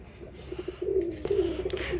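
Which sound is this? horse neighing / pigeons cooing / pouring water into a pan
pigeons cooing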